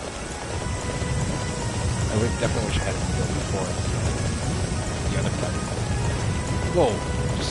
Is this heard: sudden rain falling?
yes